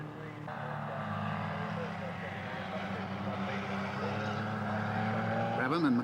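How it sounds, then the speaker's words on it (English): Cooper Works racing cars at the 1963 Australian Grand Prix, their engines a steady droning roar that swells as they speed toward the finish, heard through a period recording. "Brabham and McLaren speed towards the finish"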